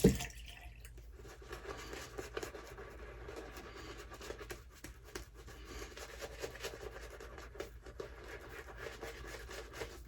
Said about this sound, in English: I'll add just a tad bit of water.